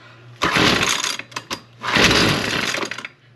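Small gas-powered lawn tool engine firing off after a pull cord on choke, with two loud sputtering bursts separated by a brief pause, close by and without talk.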